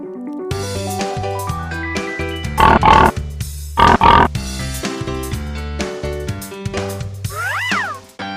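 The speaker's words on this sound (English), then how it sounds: "Pig." A cartoon pig in a children's farm-animal lesson gives two loud, short oinking grunts in the middle of a bouncy background melody.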